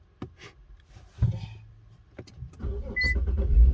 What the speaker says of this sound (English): restart your engine